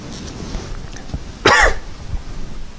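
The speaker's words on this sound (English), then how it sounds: "Think about that for a second while I try to clear my throat" One short, rough throat clearing sounds over a quiet, low background rumble, with nothing else happening before or after.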